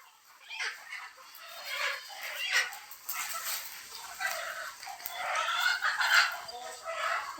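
A village hen brooding on her eggs makes soft, scattered clucking and murmuring calls, faint and close, with a person speaking quietly at times.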